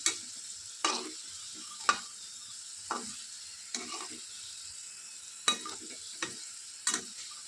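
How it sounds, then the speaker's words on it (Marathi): Coconut-filled modaks deep-fry in hot oil under a soft, steady sizzle, punctuated by sharp scraping clicks of a spoon stirring them at irregular intervals, close and quiet with no talk. "सर्व बाजूने तळले जातील ना असे त्यामुळे मिक्स करून घेऊ आपण"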